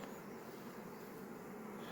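Honeybees hum steadily at a hive during inspection of a colony, a dense, even drone with no talk, moderately quiet and continuous throughout.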